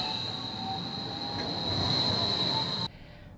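A Tacoma Link light rail train runs past with a steady rumble and high, sustained wheel squeal. The sound is loud and continuous throughout, then drops off sharply near the end.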